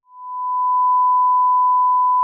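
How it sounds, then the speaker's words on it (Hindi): A censor bleep: a single steady, pure electronic tone holds unbroken for about two seconds, loud and alone, then cuts off abruptly. "बीप लग जाएगी, सुनेगी नहीं"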